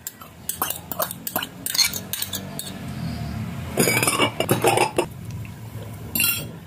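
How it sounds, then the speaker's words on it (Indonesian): A metal utensil stirs a mixture of instant coconut milk, seasoning and kaffir lime leaves in a pan, producing irregular clinks and scrapes in short bursts with pauses between, fairly close and clear. "Sekarang akan saya aduk-aduk."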